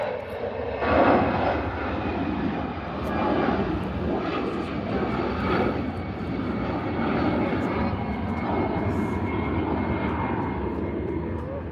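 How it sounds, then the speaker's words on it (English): A Gulf Air airliner heads toward the runway at Manchester Airport, its engines a steady, broad roar that swells and eases slightly, heard from a distance beneath occasional talk. "Gulf Fair is on its way to the runway"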